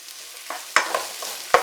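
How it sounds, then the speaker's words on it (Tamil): Green chillies and stone-crushed ginger and garlic are sautéed with onions in a pan for chicken masala, with a few crisp spatula scrapes over a faint, thin sizzle in a brief burst. "இப்போ இது எல்லாத்தையும் சேர்த்து நல்லா வதக்கி எடுத்துக்கலாம்."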